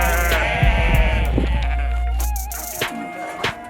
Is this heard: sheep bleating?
yes